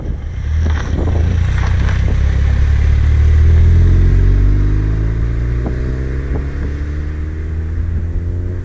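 A 500 HP turbocharged 2014 Honda Civic with a heavy Stage 4 clutch driving, a loud close engine rumble that swells with acceleration and then eases off amid gear changes.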